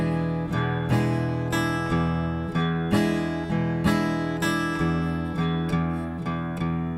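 Acoustic guitar plays a blues shuffle at a deliberately slow tempo, with evenly spaced strummed chords that ring out and decay in a steady, lopsided rhythm, close and alone with no talking.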